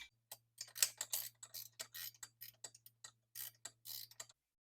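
A bolt being tightened on a Vulcan 750 motorcycle during engine-tilt stator work gives a run of close, crisp ratchet-like clicks in short uneven bursts, with brief pauses between strokes.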